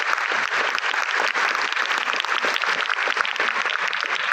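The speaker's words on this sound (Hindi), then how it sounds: "एक बार सर के लिए जोरदार तालियां होनी चाहिए" A university audience applauds loudly for a guest speaker, a thick, sustained wall of clapping that stays even and close for several seconds.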